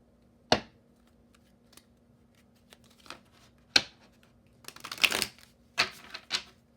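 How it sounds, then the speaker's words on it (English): Cosmic insight oracle cards being shuffled and handled close by, a series of sharp papery snaps and flutters in irregular bursts against a quiet room with a faint hum. "Okay, I'm gonna pull a couple cosmic insight cards."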